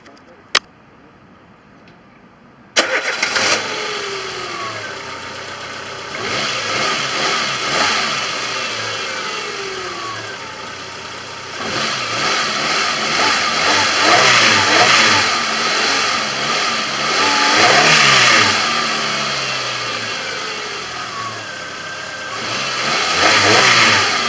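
A Citroën Xsara 1.4-litre 75 hp petrol engine cranks and catches after a spark plug change, then idles and revs in loud, rising and falling surges, with a voice talking over the running engine.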